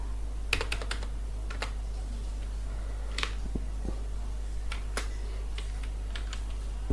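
Code typed on a computer keyboard, scattered crisp key clicks in short clusters with pauses between, close and clear over a low steady hum.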